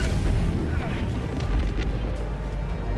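Hellbomb detonation in a video game about hunting a Metal Gear Automaton, a massive sustained low roar and rumble, loud and close throughout, with voices partly mixed in.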